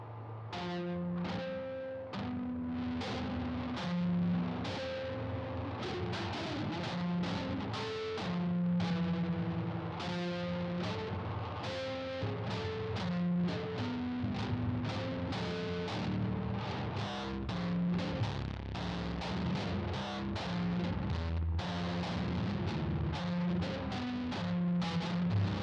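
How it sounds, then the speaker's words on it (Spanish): Electric guitar run through a distortion pedal that is working properly, playing a steady stream of fuzzy, saturated chords and notes with chorus and echo coloring, loud and continuous with no talking. "Aquí me suena la distorsión, no sé si ustedes, I don't know if you can hear distortion"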